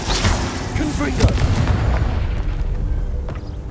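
Confringo fire spell exploding in Hogwarts Legacy on PS5, a loud booming blast with crackling debris that rolls and fades over a few seconds, with a voice speaking over the start.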